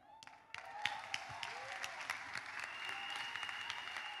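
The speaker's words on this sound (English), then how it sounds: "I think you can clap better than that" A church congregation claps during a testimony service, a softer, more distant wash of applause with sharp individual claps standing out, plus a few voices and sustained tones in the background, building slightly as it goes.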